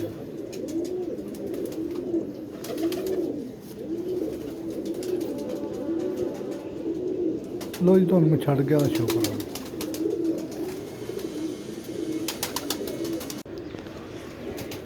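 Pigeons coo in low, rolling phrases close by, someone talking over them at times, with the cooing swelling louder midway.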